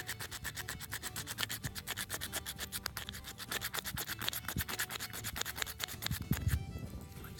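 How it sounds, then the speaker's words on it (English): Magnesium being scraped onto tinder with a blade, a fast rhythmic rasping of many short strokes, close up and steady for several seconds, with no talk. "I'm just gonna scrape a bunch of this magnesium on there."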